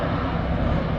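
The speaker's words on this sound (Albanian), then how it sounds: "Në zonë patrullojnë shpesh 2 avion dhe një helikopter," Firefighting planes and a helicopter patrol over a wildfire, dropping water; a steady aircraft engine drone rumbles at moderate distance, continuous and moderately loud with no talk.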